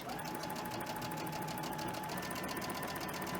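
A sewing machine runs continuously up close, stitching a quilt square with a quarter-inch seam, its fast, even whir and needle clatter steady throughout.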